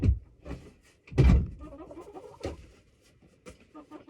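A wooden chicken coop door swings shut on a snowy spring day, giving a few close, dull thuds and knocks with brief gaps between them while faint birdlike sounds come from inside the coop.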